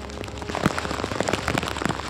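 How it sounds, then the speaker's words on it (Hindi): Heavy monsoon rain pours steadily in Jamnagar, Gujarat, a dense continuous hiss of drops striking surfaces with scattered sharper patters, close and even throughout with no voices. "तीन दिनों से लगातार बारिश का मौसम है।"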